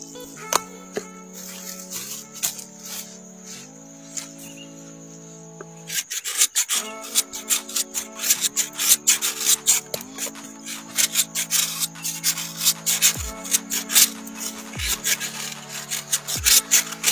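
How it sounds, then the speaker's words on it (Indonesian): A knife slices through a block of palm sugar (gula merah) in repeated rasping, scraping strokes, close and rhythmic, over steady background music with no talk. "kita iris terlebih dahulu gula merah ini"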